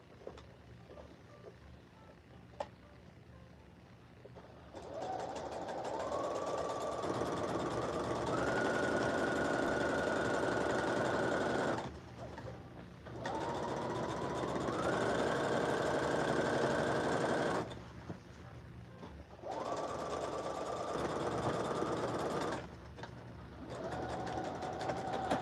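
A home sewing machine stitches costumes for a New Year's Eve parade in several sustained runs. Each run speeds up from a low whir to a steady, fast mechanical hum, separated by short quiet pauses.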